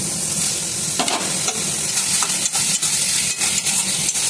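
Potatoes frying in a cooked spice paste in hot oil, a steady loud sizzle with bursts of crackling and stirring scrapes throughout, close up and without talk.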